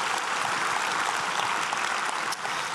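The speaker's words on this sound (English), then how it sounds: "Give a round of applause, celebrate him." A congregation at Alliance Church in Hortonville, Wisconsin, breaks into sustained applause, a thick, even roar of many hands clapping together at moderate loudness, holding steady throughout with no voices standing out.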